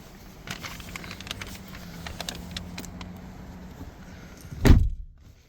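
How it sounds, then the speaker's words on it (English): A 2004 Lexus LS 430 car door shuts with one solid, heavy thunk near the end, after a few seconds of quiet interior shuffling and small clicks. "That is a very solid door close."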